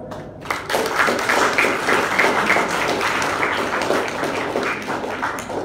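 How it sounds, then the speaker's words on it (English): Audience at a school graduation ceremony applauding teachers, staff and parents, a full, sustained round of clapping that starts abruptly and continues steadily throughout. "Let us give another well-deserved round of applause to our Greenview teachers, staff, and our wonderful parents."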